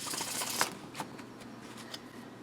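A Victorian Romantic tarot deck being shuffled gives close, soft riffling and card flutter, with a few sharper taps as the cards settle.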